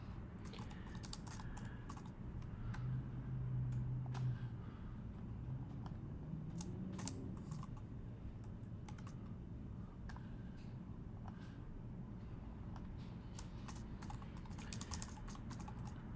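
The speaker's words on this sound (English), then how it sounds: "We're going to type in Nick." Quick, uneven keystrokes clatter on a computer keyboard, a soft steady run of clicks with brief pauses and scattered sharper taps, no voices.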